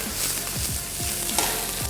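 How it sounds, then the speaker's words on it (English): Onions and tomatoes sauté in hot oil in a pan, giving a loud, close sizzle broken by repeated scraping stirs at a quick, uneven rhythm. "Now, we're going to add in the onions and tomatoes."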